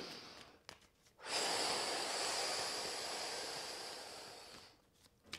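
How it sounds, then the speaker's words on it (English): One long, deep breath drawn in close to the microphone, a loud, airy rush lasting about three seconds before it fades, with a few faint rustles around it. "Take a big deep breath in."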